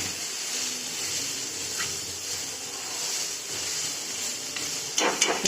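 A steady, close sizzle with a fine continuous hiss from tempering being roasted in an iron kadai while cooking paneer, onion and garlic paratha, holding even throughout with a brief sharper crackle near the end.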